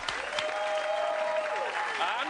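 Studio audience on a sports talk show applauds steadily and loudly, a dense wash of clapping running throughout with a voice briefly over it.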